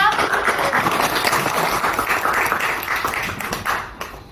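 Classmates clap for a student group called up to present in a sociology class, a dense patter of many hands running steadily before easing off near the end.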